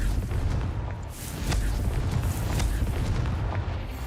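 The Confringo fire spell in Hogwarts Legacy detonates with a loud, booming, rumbling explosion, followed by sustained crackling blasts and heavy low-end roar throughout.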